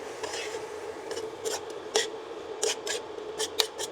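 Bean sprouts and tongue being stirred in a pan with a utensil, giving a series of short scraping, rasping strokes against the pan's surface, close and fairly steady, with a faint sizzle underneath.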